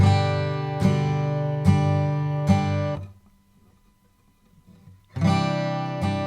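Several strummed guitar chords ring out in a steady rhythm, then a two-second near-silent gap before the strumming resumes.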